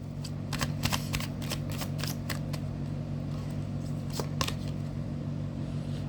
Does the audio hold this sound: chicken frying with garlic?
no